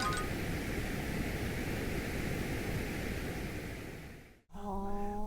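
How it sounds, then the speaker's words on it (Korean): A steady, broad rush of brown noise of the kind used for sleep fills the clip, loud and unbroken, then cuts out abruptly near the end before a different tone briefly takes over. "마지막으로 브라운 노이즈라는 게 있는데"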